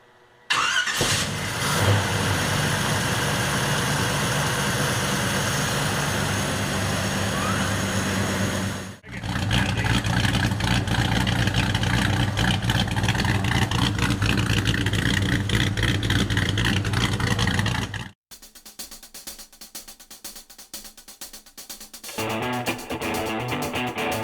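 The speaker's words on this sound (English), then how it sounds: "Gonna get fired up here. It's got the new motor put in it." A 1955 Chevrolet with a freshly installed motor and new 3-inch exhaust runs loud and close, revving hard in long sustained stretches, cutting out briefly, then settling into a lower rough idle.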